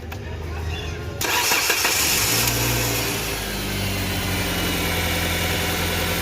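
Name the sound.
car engine starting after repair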